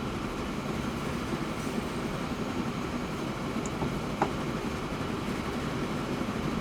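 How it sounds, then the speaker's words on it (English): A passenger train in Transport Fever 2 overtakes, a steady rumbling rail-car drone running continuously throughout with faint clattering, no voices over it. "Oh my god, we're being overtaken by the passenger train."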